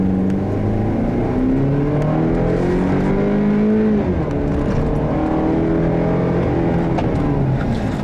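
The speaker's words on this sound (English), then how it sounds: "It's been tuned to basically make the engine stay high up in the revs" A 2015 GMC Canyon's 200-horsepower 4-cylinder engine revs high and loud, its drone climbing steadily for about four seconds, dipping briefly, then pulling up again under constant road noise.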